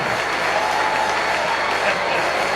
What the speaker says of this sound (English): give both ladies a big round of applause